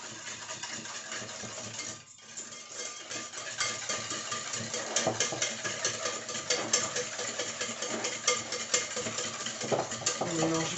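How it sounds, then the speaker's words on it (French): Eggs whisked with sugar in a bowl for a flan pâtissier, a steady close scraping and clinking that churns on continuously for about ten seconds with only a brief dip near the start. "on mélange les œufs au fouet d'abord avec le sucre"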